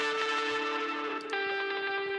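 Guitar chords run through a diode distortion setting in the Serum Effects plugin while mixing a pop punk song, a buzzy, harmonically rich tone that sustains, briefly dips, then rings on with a fresh strum.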